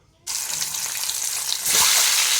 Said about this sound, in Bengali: নুন হলুদ মাখিয়ে ডিমটা দিয়ে দিয়েছি। হালকা করে ভেজে নেব।